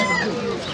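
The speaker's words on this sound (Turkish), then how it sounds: "Burada çok güzel kostüm kuşları var arkadaşlar." Costume pigeons coo at the Edirnekapı bird market, a short, close, warbling call that rises and falls once amid a busy market background.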